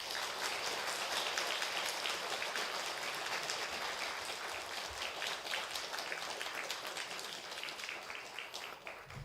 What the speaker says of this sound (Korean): 강사님, 우리 김성중 교수님 박수로 환영하겠습니다.